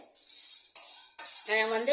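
Cardamom pods are stirred lightly in a dry pan over low heat, with a metal spoon scraping and clinking against the pan in short close strokes, alone without talk.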